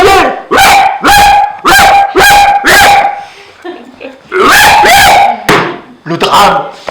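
A person imitates a dog, giving a run of five loud, sharp barks in quick succession, then a pause with faint sounds, followed by a few more barks.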